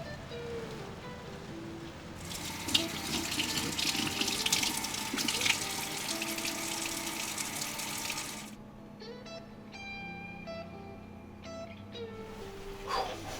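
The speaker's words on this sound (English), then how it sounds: "taking them inside and rinse them off under some cold water" Cold tap water runs steadily into a sink while handmade hunter knife pieces, guard and frame, are rinsed under it; a strong hissing stream that shifts and cuts down midway, with faint clinks of metal.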